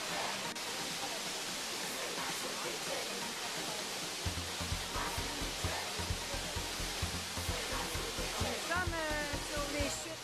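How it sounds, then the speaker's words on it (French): The Chute aux Écrevisses waterfall in Guadeloupe pours with a steady, broad roar of falling water that fills the whole scene. Voices talk faintly underneath. "En Guadeloupe, les chutes des écrevisses."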